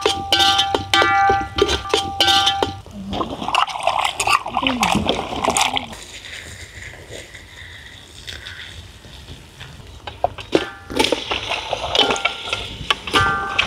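Mutton head being washed by hand in a vessel of water, with repeated splashing and sloshing, clattering metal, and people talking over it during the rinse.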